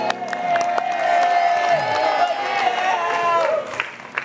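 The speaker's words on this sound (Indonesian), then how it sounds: "Boleh kita berikan tepuk tangan sekali lagi untuk mama dari Steven." A studio audience at the Take Me Out Indonesia dating show applauds and cheers for a contestant's mother, a sustained wash of clapping and whoops with music playing underneath.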